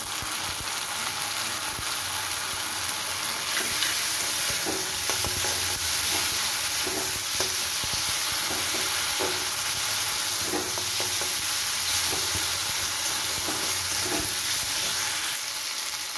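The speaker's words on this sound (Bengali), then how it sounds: "মিনিট দুয়েক আমি আদা আর জিরেটা ভালো করে ভেজে নিয়েছি।" Ginger and cumin paste fries in a pan for a prawn malaikari, giving a steady, close sizzle broken by repeated scraping stirs, with no voices.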